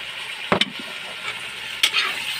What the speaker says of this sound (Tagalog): Haluin natin ito.